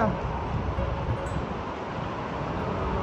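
Strong typhoon wind roaring steadily as a dense, unbroken rush of noise close to the microphone, with no clear gusts or pauses across the stretch.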